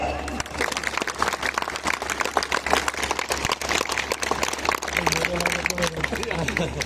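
Crowd at a Hindu gathering in Peddapuram clapping steadily and loudly throughout, a dense continuous applause with voices mixed in beneath it.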